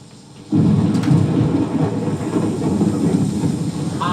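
A thunderstorm with heavy rain at sea: a loud, deep rumble of thunder breaks in after a quiet half-second and rolls on continuously under a steady wash of rain, with no voices.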